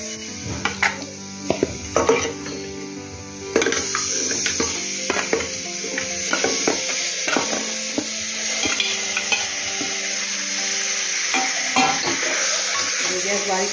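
Spiced goat mutton going into a pan of fiery red chilli masala and being stirred over low heat: a spoon scrapes and clanks against the pot over a steady sizzle, with someone speaking faintly in the background.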